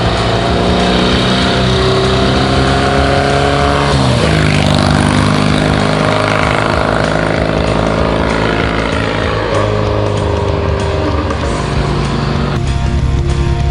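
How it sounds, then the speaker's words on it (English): A 1959 AJS Model 31 motorcycle engine running while the bike is ridden, a loud continuous droning exhaust with rising and falling revs and wind rush, no voices. "The engine is perfect for this size motorcycle, for the weight."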